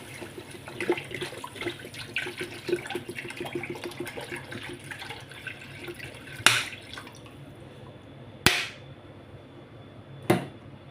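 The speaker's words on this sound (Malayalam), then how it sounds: "ഞാൻ 1 കുപ്പി വെള്ളമാണ് ഒഴിക്കുന്നത്." A bottle of water is poured into a cooking pot of fish-head curry. The trickling, dripping splash runs steadily, then three sharp metallic clanks ring out near the end.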